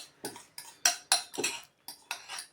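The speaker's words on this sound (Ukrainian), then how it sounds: "Хорошенько все все забираємо звідси, вишкрабуємо, розмішуємо." Melted butter scraped and stirred into a dough mixture in a mixing bowl, a series of quick close utensil scrapes and clinks against the bowl in an irregular rhythm, no talk.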